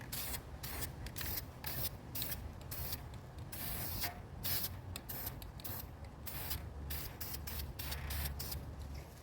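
Aerosol spray paint hisses in bursts as a light coat goes onto a DIY bird feeder outdoors on a hot, windy day; close, steady spraying with short pauses and no talk.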